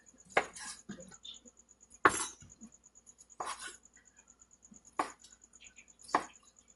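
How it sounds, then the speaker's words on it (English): A knife slicing gluten-free vegan meat on a board, five distinct crisp cuts spaced about a second apart, close up with a faint regular ticking in between. "You can also cut slices like this"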